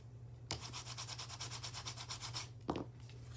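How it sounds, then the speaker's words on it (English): Masking tape burnished down onto paper with rapid, rhythmic rubbing strokes for about two seconds, followed by a brief separate scrape, all close and fairly quiet over a low steady hum. "Make sure all my tape is well burnished down."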